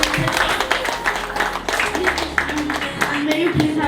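A school audience applauds its teachers, steady clapping from a crowd close by with some voices mixed in, lasting several seconds.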